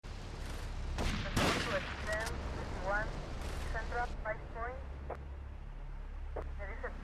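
Gunfire rings out during a police shootout at a lockup in the video game GTA Vice City, with a few sharp shot bursts over constant game noise and character voices.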